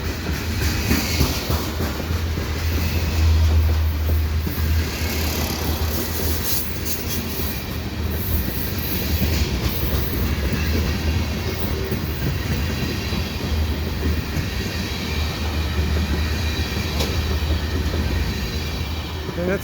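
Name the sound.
freight train passing at night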